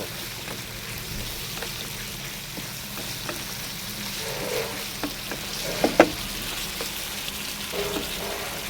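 Chicken ghee roast cooks in a pan with a steady, close sizzle and crackle. Scattered pops and a couple of sharper spits come through, and there is no talk.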